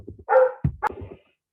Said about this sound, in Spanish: Paré porque se escuchaban los perros